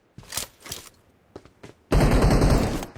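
Gunfire in a first-person shooter game: sharp, close bursts of automatic fire in short separated volleys, then a sustained loud barrage that runs on for about a second.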